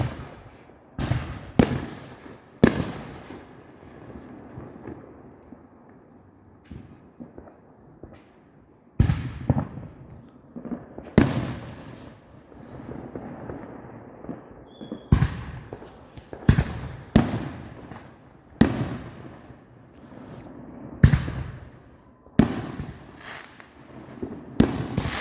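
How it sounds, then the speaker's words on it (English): Fourth of July fireworks bursting close by in a rapid irregular series of loud sharp bangs and cracks, with crackling and rumbling echoes filling the gaps between blasts. "I've never been this close to the fireworks, guys."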